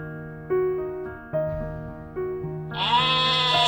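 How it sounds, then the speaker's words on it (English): Sheep bleating in a farm-animal sound sequence: three or four loud, close, wavering bleats in succession, the last one higher and longer, with no talk over them. "Sheep."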